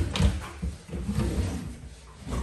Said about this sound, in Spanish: Los cajones.